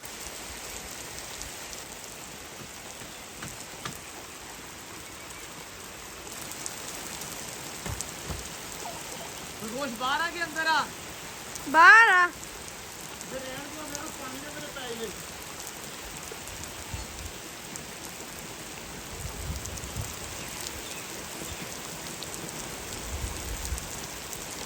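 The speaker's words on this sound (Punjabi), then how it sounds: "ਬਾਰਿਸ਼ ਬਹੁਤ ਜ਼ਿਆਦਾ ਤੇਜ਼ ਹੋ ਗਈ ਆ" Heavy, stormy rain pours down steadily throughout as a dense, continuous wash, with water running off a roof spout, and a voice briefly calls out in the middle.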